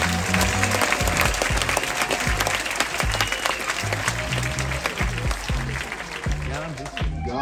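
Sustained applause from a cruise ship audience at a gala evening, greeting the hotel director during crew introductions on a voyage toward Greenland. The clapping is steady and fairly loud throughout, with music and some voices underneath.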